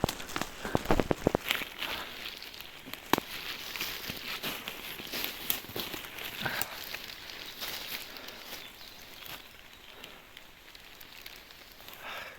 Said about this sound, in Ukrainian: Продовжуємо нашу дощову прогулянку.